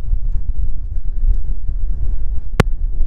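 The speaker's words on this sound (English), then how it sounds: "It's crazy windy out here, coming from the coast just over there." Strong coastal wind in Morocco buffets a microphone beside a camp area, a loud continuous rumbling roar with gusty swells, plus a brief sharp click partway through.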